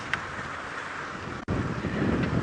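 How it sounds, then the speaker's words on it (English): Strong wind buffeting the microphone outdoors during a sunset safari drive, a steady loud roar that drops out for an instant and then returns even heavier. "it's very windy out here"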